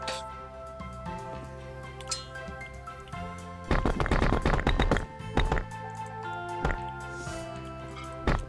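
A missed spot gets filled with mortar in the Builder Simulator game: wet, squishy dripping and slapping sounds over tonal game music, with a louder burst of liquid squelches midway.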